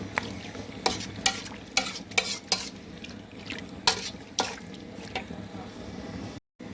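Mushrooms and bamboo shoots are stirred in a pot of bamboo-shoot curry, a ladle scraping and knocking against the pot in irregular strokes over a soft bubbling background, close and moderately loud.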